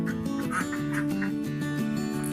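Laying ducks on a duck farm quack in a dense, overlapping chorus of nasal calls, steady and close throughout with no pauses.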